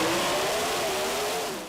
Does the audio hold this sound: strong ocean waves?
no